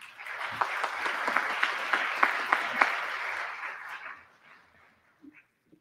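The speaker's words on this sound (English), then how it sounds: "give these scholars a round of applause real quick" An audience at an honors program ceremony for scholars applauds steadily for about four seconds, a dense mid-level clatter of clapping with a few sharper claps, then fades quickly into near silence.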